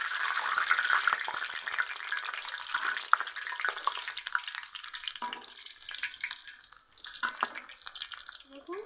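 Potatoes and onions frying in a pan over low heat, a soft continuous sizzle with scattered crackles and occasional scrapes of stirring, close and fairly quiet.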